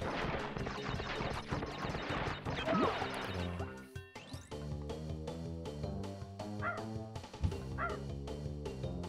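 Cartoonish dog barks and yips from the Crash Bandicoot 2 video game ring out over busy game music and crash effects, with several short barks near the start of the stretch.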